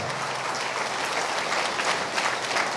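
Audience applause for a political speech in a hall, a steady wash of many hands clapping close by, sustained throughout without a break.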